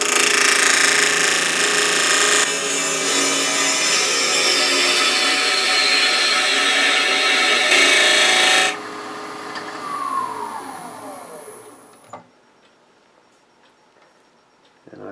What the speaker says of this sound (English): I think I'm going to switch to a little smaller bowl gouge to take a little aggressive cut